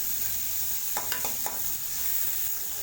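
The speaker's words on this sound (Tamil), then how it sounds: "வெங்காயத்தை நல்லா வதக்கி விட்டுக்கோங்க" Onions sautéing in oil in a pan over a medium flame, a steady close sizzle with a few quick stirring scrapes partway through, no voices.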